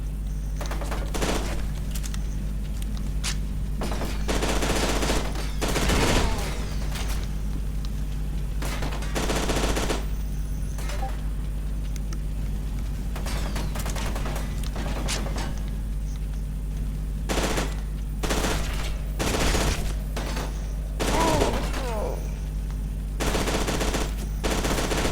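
Steady bursts of automatic gunfire from F.E.A.R. 2: Project Origin: repeated sharp volleys come at irregular gaps over a constant low hum, fairly near, with no talking.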